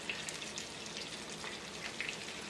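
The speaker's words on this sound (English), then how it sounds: "And I'm just shallow frying these." Quiet, steady sizzling of flour-dusted herrings shallow frying in oil, with faint crackles and pops scattered over a constant hiss.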